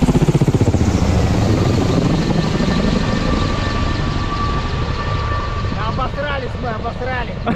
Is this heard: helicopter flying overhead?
yes